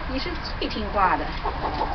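A yellow chicken held close up for wing clipping gives a series of short, soft clucks and murmuring calls.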